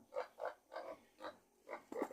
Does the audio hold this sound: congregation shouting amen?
no